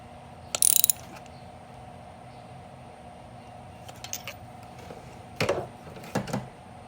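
Ratchet tightening a spark plug in a 2015-2019 Hyundai Sonata 2.4, a few short bursts of crisp clicking separated by quiet pauses, close up and alone.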